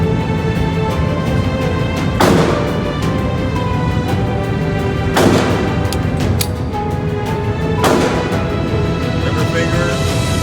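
Gunfire at a concealed carry shooting range: three sharp, loud reports spaced a few seconds apart, with a steady background rumble and speech around them.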